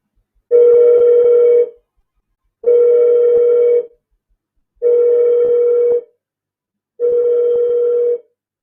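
Four evenly spaced telephone line tones, each about a second long with short silent gaps between them, ring out loud and clear on a call-in show line with no talking.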